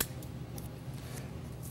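Scissors snip small pieces of masking tape, about three centimeters each, at a tabletop science build for a ramp car racer; a faint, steady close-up rustle and crinkle with no voices.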